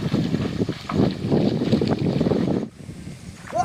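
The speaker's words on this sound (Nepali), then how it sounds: "यस्तो हावा चलिरहेको छ।" Wind blowing at a riverbank where people bathe in a deep stream, a loud, rough low rumble buffeting the microphone that drops away abruptly near the end.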